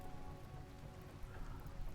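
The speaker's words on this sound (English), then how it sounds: "The rain should be putting out the fire." Rain falls in the video game Rimworld on a temperate forest map, a dense, even patter of drops that stays faint and continuous throughout, with no voices.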